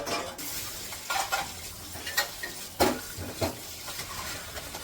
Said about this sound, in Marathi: लागली तर भांडे घासायला बघा मोठाच आवाज येतोय ना